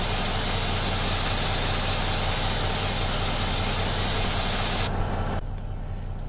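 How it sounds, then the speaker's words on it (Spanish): A SISU C500 truck engine in Euro Truck Simulator, driving on twisting Norwegian roads, gives a steady, loud, deep rumbling drone that carries on unbroken before dropping sharply in level near the end. "escuchen el motor, es lo más impresionante, se escucha como un americano"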